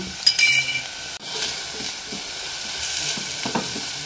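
Sliced onion drops into hot oil in a pan for a Goan fish jeerem meerem, starting a loud, steady sizzle and crackle with an occasional scrape of a utensil and no talk.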